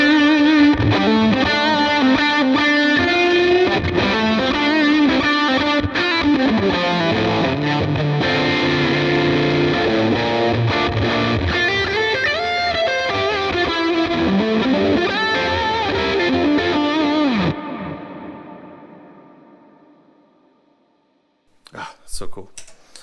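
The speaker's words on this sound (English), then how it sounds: "This makes it into a fuzz." Electric guitar played through the Kilt overdrive on a Line 6 HX Stomp, set to a fuzz tone, giving a thick, buzzing distorted riff with sliding notes that holds steady, then rings out and fades, followed by a few clicks.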